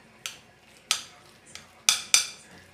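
A spoon clinks against a bowl while stirring a salad of vinegar, onion and cubed parmesan cheese, five distinct close taps spaced irregularly with quiet scraping between, no talking.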